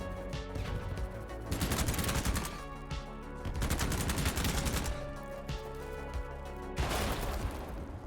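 Full-auto bursts from a Groza rifle in Battlebit Remastered at night, several long rapid strings of loud close shots separated by brief pauses.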